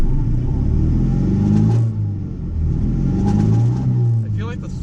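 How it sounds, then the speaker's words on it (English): A Chrysler TC 16v under restoration rumbles along a home driveway, its engine a loud low drone that rises and falls with throttle, with someone talking over it. "I'm gonna attempt to drive this car up and down my driveway once."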